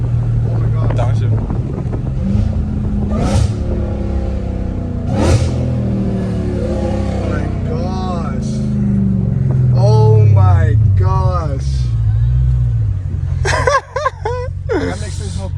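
Dodge Hellcat Redeye with catless exhaust pipes roars past while downshifting, a loud, rising and falling engine and exhaust note heard from inside a moving car, with wind noise and excited voices over it.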